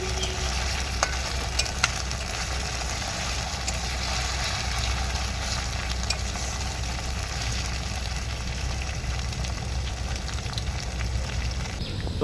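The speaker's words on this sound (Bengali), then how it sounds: "পেঁয়াজটা ভাজা হয়ে গেছে" Sliced onions sizzle in a pan for a fish dish, a continuous close crackle with occasional stirring scrapes and no talking.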